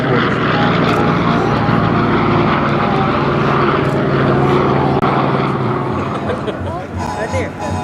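An F4U Corsair propeller fighter at the 2015 Keesler airshow drones loudly and steadily throughout, its piston engine roar close and continuous, easing slightly near the end while a commentator talks over it.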